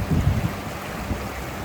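Ocean surf where a river opens to the sea on the Great Ocean Road: a steady, broad roar of breaking water with low rumbling swells, partly buffeted by wind on the microphone.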